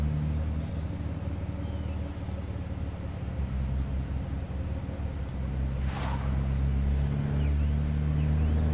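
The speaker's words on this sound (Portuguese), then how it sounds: "Vamos pegar o carro aqui." Car engine in the State of Decay video game, a low steady rumbling drone with sustained hum throughout, a brief higher whoosh partway through, no talking over it.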